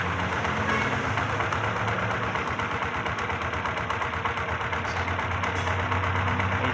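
An AKT motorcycle engine, a 125 cc class machine, runs close by with a dense, continuous mechanical drone and rapid firing pulses, holding steady at raised revs without any voices.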